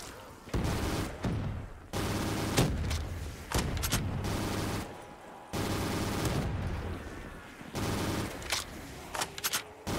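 Rapid gunfire from Black Ops 3 custom zombies on the Signal map comes in several loud bursts, separated by short gaps and echoing booms.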